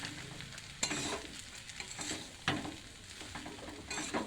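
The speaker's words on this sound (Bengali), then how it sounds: "এবার আমি এটা মিশিয়ে নেব ভালো করে।" Soft steamed food is stirred and mixed in a pressure-cooker pot, a steady scraping and squelching with a few sharper knocks of the spoon against the pot.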